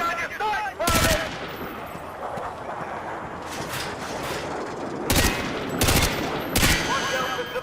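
Bursts of rifle fire from Call of Duty Modern Warfare 2 during the S.S.D.D mission, several sharp broadband shots cracking over a steady battlefield and ambient bed, spaced unevenly with a cluster near the end.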